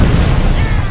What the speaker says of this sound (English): More explosions there.